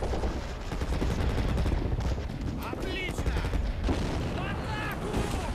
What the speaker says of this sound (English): hopefully my AT guns will take care of them.